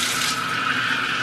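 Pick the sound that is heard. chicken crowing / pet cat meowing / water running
water running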